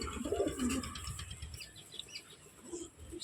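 A male Napta pigeon gives a short, low coo near the start, then fainter murmuring follows, with a brief wing flutter possible and no speech.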